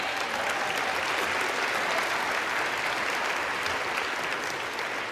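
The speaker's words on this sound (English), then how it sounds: "Can we have a round of applause for them, please?" A crowd at the U.S. House applauds the staffers, a dense, steady wash of clapping that carries on without a break at even loudness.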